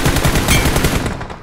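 Rapid burst of automatic gunfire in a battle royale video game, loud and close, fired at a vehicle's tyre in one continuous rattle lasting over a second.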